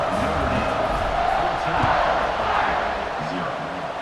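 Stadium crowd in the College Football 26 video game, during a Notre Dame versus Oregon matchup, keeps up a loud, continuous roar of cheering that swells slightly midway and holds steady throughout.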